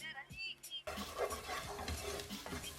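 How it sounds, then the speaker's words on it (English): Paprika being stirred into a sizzling pan of ginger-garlic mince and salt: a quiet start with faint clinks gives way to loud, steady frying hiss with scraping stir sounds, no talking. "teaspoon of paprika, stir that in as well"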